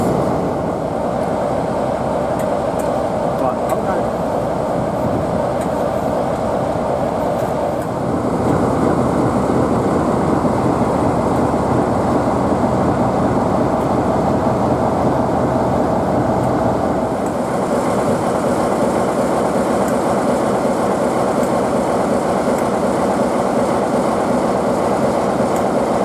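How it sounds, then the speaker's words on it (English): Class 47 diesel locomotive 47367 with a facelifted cab end, running at a diesel gala: a steady, loud rumbling engine drone with rail noise that shifts in tone partway through and continues for the whole stretch. "Here we see a Class 47, number 47367 Kenny Cockbird, with the strange facelift on one end,"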